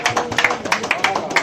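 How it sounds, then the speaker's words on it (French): A crowd applauds at a book launch for a Congolese criminal procedure text, with quick, evenly spaced claps standing out in a brisk, close patter while a voice talks over them. "Sous vos applaudissements."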